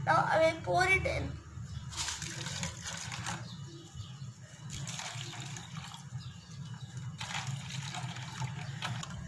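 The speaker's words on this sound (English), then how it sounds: "This is my AC water. Now I will pour it in." AC waste water poured into a plastic bottle, a brief splashing pour at the start followed by intermittent trickling and dribbling bursts, close and fairly quiet, with no talking over it.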